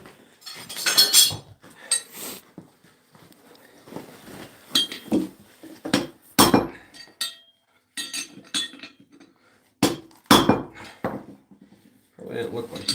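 A farrier works a horseshoe on a small, poor-quality anvil, bringing in the heels and flattening it, with sharp, uneven metallic strikes in short bursts and pauses, near and fairly loud, and quiet voices talking between blows.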